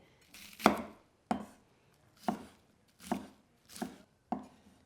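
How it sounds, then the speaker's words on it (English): A knife finely dices onion on a cutting board: six crisp, evenly spaced chops, close and clear, with nothing else heard. "We're going for relatively small dices of onion here."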